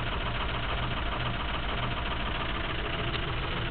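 Ford 6.0 liter Powerstroke diesel from 2007 idles right after a cold start at 24 degrees, steady loud rumbling clatter throughout with no variation and no voices.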